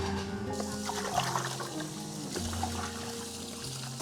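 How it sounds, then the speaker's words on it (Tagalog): Water runs hard from a tap in a campsite toilet, a steady rushing flow with splashing, fairly close and unbroken throughout. "Malakas yung tubig nila dito guys."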